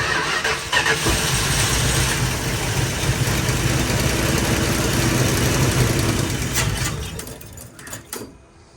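A 1973 Dodge Challenger's engine cranks steadily for about seven seconds, a loud rhythmic churning that fails to catch, then slows and stops.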